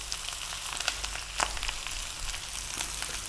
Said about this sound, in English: we're going to fry this rice for about 5 minutes on a nice high heat